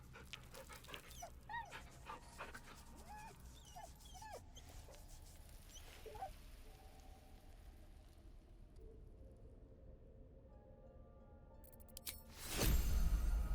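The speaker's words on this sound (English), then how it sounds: "Sure, we'll pet the dog again." A dog in the fantasy role-playing video game Baldur's Gate 3 whimpers, yips and pants softly while being petted, quiet game sounds throughout, ending in a louder burst of activity.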